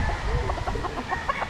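A pongkan gamefowl rooster with yellow legs clucks in a quick run of soft, rhythmic notes at close range, set against low farmyard background noise.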